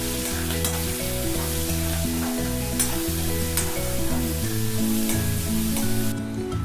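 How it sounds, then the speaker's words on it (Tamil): Onions, curry leaves, ginger and green chilli sauté in a hot pan after a mustard-seed tempering, giving a steady close sizzle with stirring scrapes throughout and no talk. "கருவேப்பிலை, இஞ்சி, பச்சை மிளகாய், வெங்காயம் இதெல்லாமே சேர்த்து நம்ம நல்லா வதக்கிக்கலாம்."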